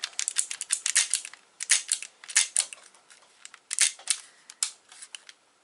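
Clicks from a Crosman C1911 CO2 .177 semi-auto pellet pistol, its trigger and safety worked by hand: a close, dry run of many sharp clicks in quick clusters with short pauses, alone without talk.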